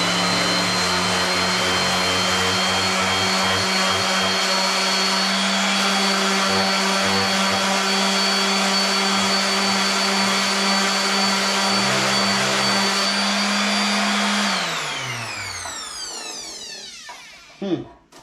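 Electric sander working on a piece of wood, giving a loud, steady motor whine that runs continuously, then winds down and spins to a stop near the end.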